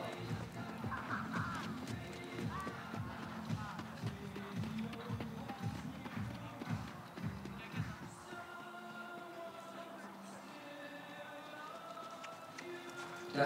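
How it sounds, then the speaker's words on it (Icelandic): Icelandic horses gallop on a show track at a breeding-day event, a rapid rhythmic drumming of hooves for about eight seconds that then fades under a low commentary voice and crowd ambience. "Þetta eru glæsilegir hestar."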